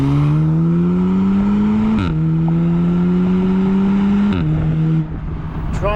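A 2019 Honda Civic Type R or 2019 Audi S3 accelerates hard, its engine note climbing loudly then dropping sharply at each of several quick gear changes, close and continuous before easing off.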